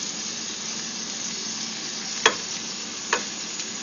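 Chicken sizzles steadily in a hot pan after being flipped, a close, even hiss of frying with two brief sharper clicks or pops partway through, no talking.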